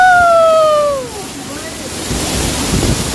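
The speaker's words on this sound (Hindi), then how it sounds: "भाई बहुत ज़्यादा फ्लो है यहाँ पे पानी।" Rushing water from Neer Waterfall in Rishikesh, a broad steady roar that swells after a brief tonal voice-like sweep at the start and continues strongly to the end.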